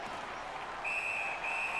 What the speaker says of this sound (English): And he holds on, and the whistle stops play